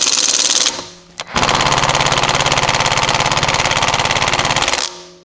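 A Lidl Parkside impact gun rated at 100 Newton meters hammers on a car wheel bolt, a loud rapid rattling burst after a short spin-up, running steadily for about three and a half seconds before cutting off, with no talk.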